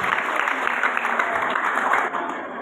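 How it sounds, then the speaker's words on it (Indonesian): Steady applause from a church congregation at a Christmas revival service, dense clapping that holds evenly throughout with no talk over it. "Kita beri tepuk tangan dulu untuk mereka ya."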